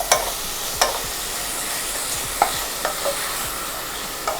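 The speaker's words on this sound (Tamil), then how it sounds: "ஆயில் ஹீட் ஆனோடனே நம்ம மேரினேட் பண்ணி வச்சுருந்த சிக்கனை வந்து இதில் போட்டுருவோம்" Marinated chicken for Jamaican brown stew chicken sizzles steadily in hot oil in a pan. Scattered scraping knocks and clinks come through as the pieces are stirred, close and fairly loud, with no voices.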